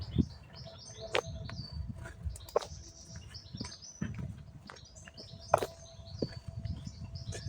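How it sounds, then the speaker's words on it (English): Birds chirp and tweet intermittently in the background in Salford, England, short high calls scattered over a low rumbling outdoor ambience, fairly quiet. "Quiet, you can just hear the birds chirping from the background."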